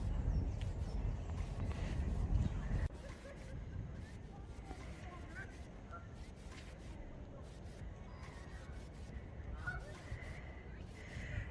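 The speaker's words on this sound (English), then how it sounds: "Ah! The poor geese." Geese honk repeatedly in the near distance over steady outdoor background noise and wind, with a louder rumbling start before settling.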